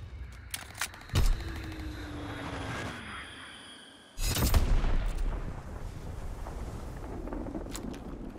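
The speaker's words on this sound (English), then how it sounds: "Enemy bomb incoming! Get to cover!" Incoming enemy bomb strike in Call of Duty: WWII: a droning aircraft pass with sharp cracks gives way, after a brief lull, to a loud heavy blast and a long rumbling aftermath.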